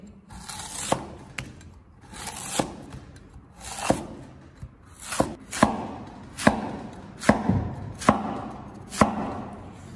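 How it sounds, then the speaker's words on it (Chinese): A kitchen knife cuts spring bamboo shoots into thick slices on a board, about ten crisp, close chops in an uneven rhythm, each with a short scrape. "然后切成厚片。"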